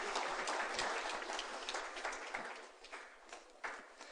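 An audience at a public meeting on waterfront revitalization gives a soft, sustained round of applause. The clapping is even and fairly distant and fades slightly toward the end, with no speech over it.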